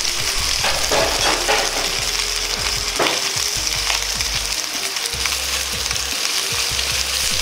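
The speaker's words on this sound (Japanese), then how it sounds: "そうしたらもやしを入れ一緒に炒めていきます" Bean sprouts and pork stir-frying in lard in a pan, a loud steady sizzle with scraping stirs and clacks of a utensil against the pan throughout, no voices.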